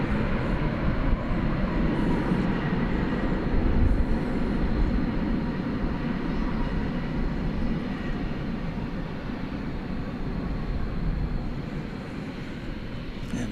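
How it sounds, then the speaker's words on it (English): An American Airlines Airbus A321 arriving at DFW Airport from Fort Myers, Florida, makes a continuous low rumbling engine roar, strongest early on and gradually easing, heard alone at middling distance. "American Flight 2736 arriving on Airbus A321 from Fort Myers,"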